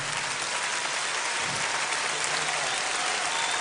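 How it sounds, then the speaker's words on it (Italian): Dense, steady applause from an audience at a live talk and concert event, a continuous wash of clapping holding at an even level throughout with no voices over it. "Facciamo un grande applauso."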